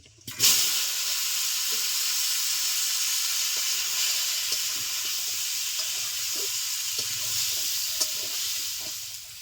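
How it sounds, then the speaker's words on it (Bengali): Potatoes frying in a generous amount of oil for a river fish curry, a loud, steady sizzle and hiss that runs unbroken from start to finish, with faint scraping stirs under it. "আলুগুলো ভেজে নিচ্ছি"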